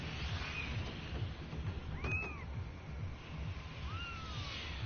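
A cat gives a couple of soft meows, faint and spaced apart, over a low steady background hum.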